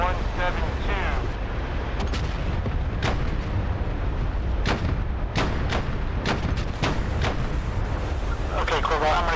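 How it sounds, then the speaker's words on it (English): Mortar shells strike in the DCS World combat simulator, a series of sharp booming impacts at irregular intervals, some near and loud, others distant, over rumbling wind-like noise. "Looks like we're getting shelled, combined arms guys."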